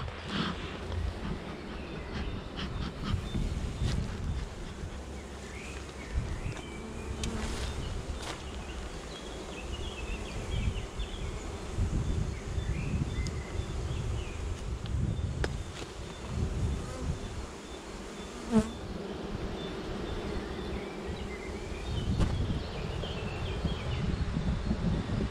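Honeybees buzz around an open beehive during a swarm-season inspection of an apiary in April in poor weather, a low, continuous drone that swells and fades with occasional rustling and handling knocks.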